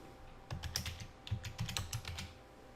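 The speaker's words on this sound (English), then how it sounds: "go to Text Box, and just type text 1" Typing on a computer keyboard while entering text into a text box, a quick run of close, crisp key clicks in short bursts with no talking.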